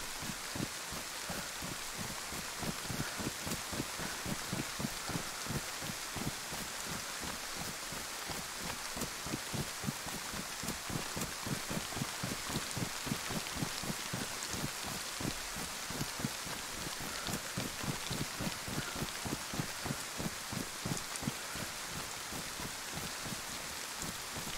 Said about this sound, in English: I would like it to stop raining and clear up a little bit.